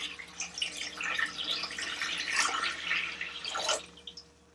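Water pours from a tap to fill a water distiller in a formulation lab, a close, continuous splashing trickle with gurgling bursts, alone without talk.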